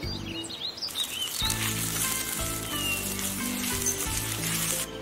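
Boiling water poured into a hot pan of caramelised sugar, giving a loud, sustained bubbling sizzle and steamy hiss up close, with faint bird chirps in the background.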